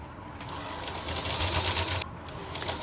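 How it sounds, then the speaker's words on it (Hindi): A sewing machine stitches a palazzo hem with a steady fast whirring hum and needle chatter, close and moderately quiet, pausing briefly before running again. "यहाँ पर हम अपनी सिलाई लगा लेंगे"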